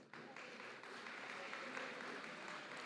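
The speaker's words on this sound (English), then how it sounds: "Give yourself a round of applause." An audience at a city public consultation meeting applauding, a dense, steady wash of clapping heard from a distance and fairly faint, lasting a few seconds without speech.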